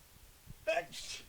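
A single sharp sneeze bursts out, followed by a breathy exhale, against a quiet room.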